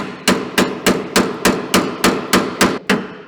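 Hammer driving a bushing into the end of a new leaf spring for a 1964 Jeep CJ5, about eleven sharp metallic blows at a quick, even rhythm, loud and close with no talk.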